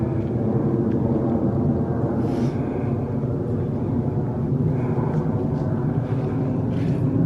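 An airplane passing overhead above a boggy woodland, a continuous low steady rumble filling the whole stretch at moderate distance, with no talk over it.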